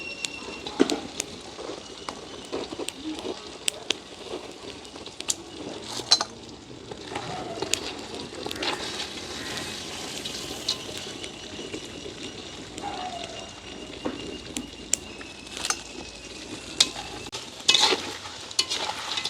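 Crab frying in hot oil, a continuous soft bubbling sizzle with frequent sharp pops and spatters and occasional clinks of a utensil, close but fairly quiet.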